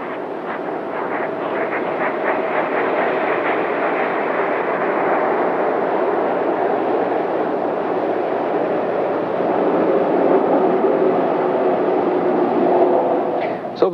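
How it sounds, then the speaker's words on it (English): Space Shuttle Columbia rolling out on runway 17 left at Edwards Air Force Base after landing, a steady loud broadband roar of rushing air and rumble that holds for the whole stretch, with a faint fluttering at the start. "nose gear touchdown for Columbia as she rolls out on runway 17 left at Edwards Air"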